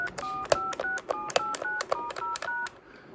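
Touch-tone dialing on a Trimline-on-a-chip telephone: about a dozen quick, evenly spaced beeps in a brisk rhythm, close and clear with no talking.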